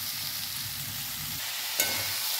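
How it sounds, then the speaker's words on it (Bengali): Cabbage and cauliflower stir-fried on low heat with no water added, a dense continuous sizzle close by with faint stirring movement and a single brief clink near the end; no voices. "চাপা দিয়ে দিয়ে অল্প আঁচে নেড়ে নেড়ে এই সবজিটাকে আমি তৈরি করব"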